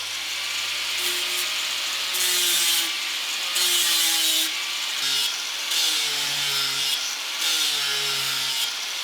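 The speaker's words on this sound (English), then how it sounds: "If I run a file over it, it's brightening that edge, but it's not really cutting into it" A metal file scraping back and forth across the edge of a steel racing axe head, a steady rhythm of harsh rasping strokes, close and alone.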